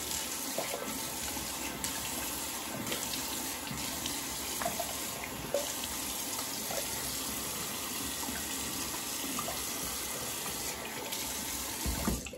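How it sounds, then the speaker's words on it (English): Cold water runs steadily from a tap while a razor is rinsed, a continuous close splashing hiss that holds through the whole stretch without speech. "Quick rinse, cold water."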